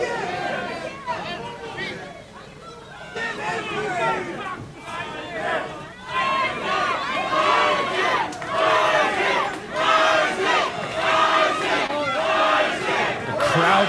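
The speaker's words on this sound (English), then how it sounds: "The crowd is alive in the Eclipse Event Center tonight, folks." Boxing event crowd at the Eclipse Event Center roaring, cheering and shouting continuously, a dense loud wall of voices that swells in waves and grows stronger toward the end.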